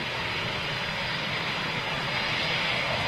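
Eurofighter Typhoon jets at RAF Coningsby produce a steady, loud, broadband engine roar with a high whine, constant and unbroken throughout.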